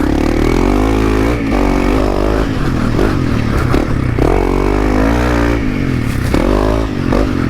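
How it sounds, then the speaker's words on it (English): A motorcycle engine roars loud and steady while riding up a hill section, its note rising and falling as the throttle changes, with rattling mechanical clatter over the top and no talking. "Man, does it make that bike sound good."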